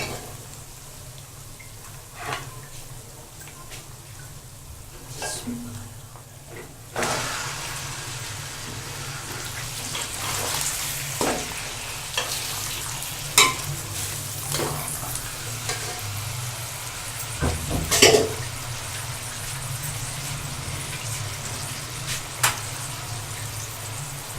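Chicken pieces frying and being stirred into browned onions in a karahi, a steady sizzle with intermittent scraping stirs and clinks, close and moderately loud, no talking.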